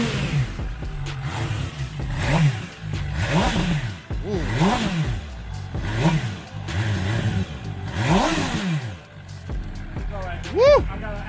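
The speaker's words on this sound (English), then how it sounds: "Let's see how the throttle sounds." A 2021 Kawasaki ZX-10R motorcycle engine revs repeatedly, the throttle blipped in rising and falling bursts about every second, close and loud, with voices talking over it.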